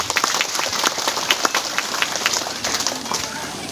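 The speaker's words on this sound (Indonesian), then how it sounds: "Kita tepuk tangan untuk Pak Stanley" An audience claps in a steady burst of applause, many hands patting together at close range, at a Catholic church gathering in Indonesia.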